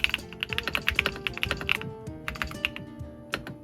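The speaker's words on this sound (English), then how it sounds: "let's do a typing test and see how this thing actually feels" Someone types on a 3D printed keyboard fitted with linear lava switches, producing a quick, irregular run of close, crisp key clicks and thocks with brief pauses between bursts.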